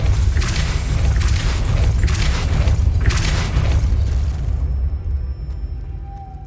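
Depulso spell cast in Hogwarts Legacy, a loud continuous booming rumble with several rhythmic forceful surges that cuts off sharply and gives way to quiet.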